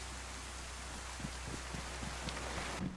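Steady rain falls in the DayZ video game on Deer Isle, a soft, even hiss with scattered faint drop taps and low background rumble, quiet and without voices.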